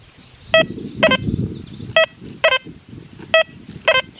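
Tones from an XP Deus 2 metal detector with an HF2 coil sweeping over coins, running in four-tone mode: six short, sharp, harmonically rich beeps at irregular intervals over a low rumble of handling and ground noise.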